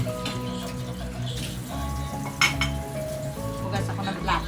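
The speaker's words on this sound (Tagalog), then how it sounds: "Hugas ako ng plato, ha?" Plates and cutlery clink and clatter intermittently while dishes are washed in a home kitchen, with running water and faint background voices underneath.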